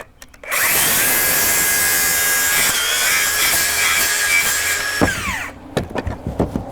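A power saw cuts material to length during tarping of a storm-damaged roof, a loud continuous whine of about four seconds that winds down, followed by a few sharp knocks.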